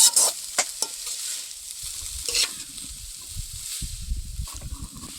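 Pumpkin halwa bubbles in oil while being stirred, a gentle sizzle with thick low bubbling and scraping strokes of a spoon, close and moderately loud.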